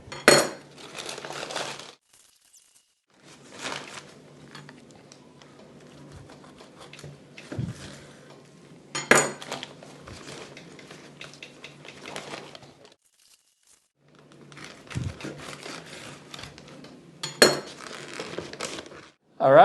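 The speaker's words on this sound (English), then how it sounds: "I'm going to slice them off." Knife cutting smoked St. Louis style pork ribs on a board, with intermittent quiet scrapes, taps and clinks separated by near-silent pauses, close up and without talking.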